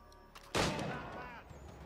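A single loud gunshot in Assassin's Creed 3 bursts out, followed by a rumbling decay and quieter background game noise.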